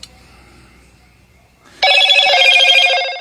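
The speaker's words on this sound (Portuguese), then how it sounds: "Tirar o som aqui, que vai chegando mensagem e as notificações." A phone rings out with a loud, sudden electronic notification tone that starts partway through and sustains steadily after a quiet lead-in.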